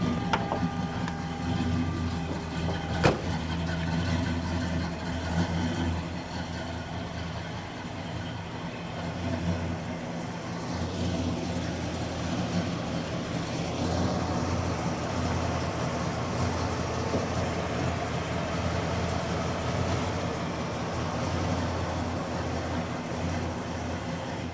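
A classic car with a little over 78,000 on the odometer idles steadily after starting, a continuous low engine rumble with harmonic hum, a sharp click near the start, no speech.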